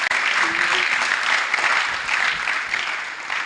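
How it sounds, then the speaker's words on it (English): An audience at an annual general meeting claps together in a dense, continuous round of applause that stays loud and close for a few seconds. "Can we clap for ourselves?"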